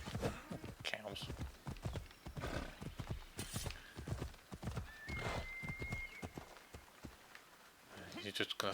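Horse hooves galloping in Assassin's Creed Odyssey, a steady rapid clip-clop under running voice chatter, with a whinny breaking through partway and game ambience behind.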